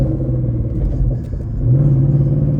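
A 2013 Ford Mustang GT V8 idles with a deep, steady rumble up close, and its low engine tone shifts and rises briefly as it goes into first gear, with no talk over it.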